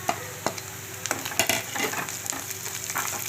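Chilli powder, turmeric and salt being sautéed over a low flame for mushroom pepper fry: soft sizzling with scraping stirs of a spoon across the pan, fairly quiet and close, with no talking.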